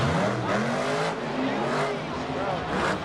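Monster Mutt Rottweiler monster truck in a Monster Jam freestyle run in Anaheim, engine roaring with rising and falling revs as it skids and slides near the barricade, loud and close throughout.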